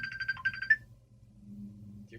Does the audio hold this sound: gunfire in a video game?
no